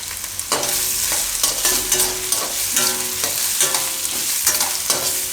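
Leftover roti manchurian is stirred in a hot pan, with a loud continuous sizzle and repeated spoon scrapes and clinks against the pan in an uneven rhythm.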